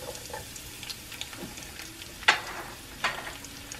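Garlic added to olive oil in a pan on low heat: a faint, steady sizzle under room noise, broken by two sharper clinks or pops near the middle, no talking.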